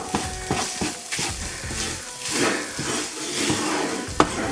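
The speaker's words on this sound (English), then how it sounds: "And mix it in well." A butter chicken mixture is stirred in a hot pan, producing a continuous sizzle broken by rhythmic scraping strokes of a spoon and a sharp clink near the end.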